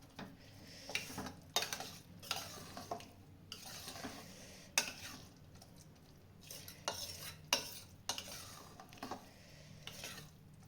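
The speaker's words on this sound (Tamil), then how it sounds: "ஸ்டவ்வை ஆன் பண்ணியாச்சு. இப்போ நல்லா கிளறி விட்டுக்கலாம்." Sweet pongal mixture stirred in a pot on the stove: repeated scraping and clinking of a spoon against the vessel, in uneven bursts over a soft low simmer, fairly quiet and close.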